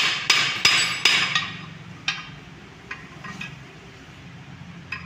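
A hammer strikes a Toyota Kijang transmission part during teardown, with about five sharp metallic blows close up in the first second and a half, then sparser, lighter taps and clinks spread over the rest.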